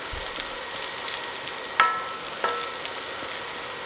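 Shaved Brussels sprouts sizzle in a hot pan at 390 degrees, a soft, even frying hiss with a couple of sharp clinks as the pan is touched.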